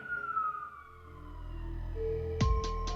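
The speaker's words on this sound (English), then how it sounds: "there has to be a siren outside" A siren wails outside, its falling tone heard faintly in the distance behind a low hum, followed by a couple of sharp knocks near the end.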